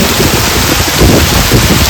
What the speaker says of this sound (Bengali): নামার সঙ্গে সঙ্গে মুষলধারে বৃষ্টি হচ্ছে